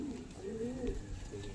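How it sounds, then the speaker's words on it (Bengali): Pigeons perched up in a loft give a short, soft burst of throaty cooing, fairly faint against a low room hum. "পায়রাগুলো সেই উপরে আছে"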